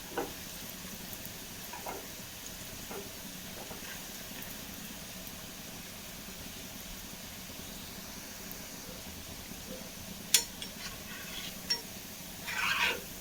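Grated coconut snack frying in ghee in a pan over a medium flame, a soft, steady sizzle running throughout with a few faint clinks of a utensil near the end.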